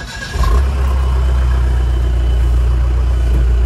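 A Mahindra Bolero 4x4 pickup truck engine with a new clutch release bearing idles steadily after a brief start, a low constant rumble with a faint whine above it, close by and with no talking.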